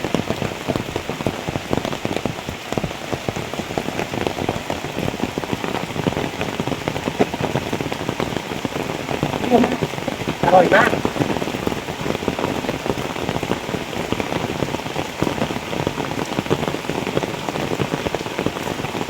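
Heavy rain in a forest falls as a dense, constant patter that stays loud and even throughout, with a brief voice heard once.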